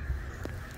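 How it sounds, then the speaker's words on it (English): Geese-like birds honk a single short call, heard faintly at a distance over steady outdoor background noise. "It's cool, but all these damn birds."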